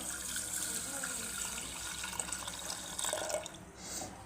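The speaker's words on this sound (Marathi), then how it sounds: "आता आपण एक ग्लास पाणी टाकूया" A glass of water is poured over washed rice in a pressure cooker, giving a steady, close splashing and filling sound that runs throughout without pause.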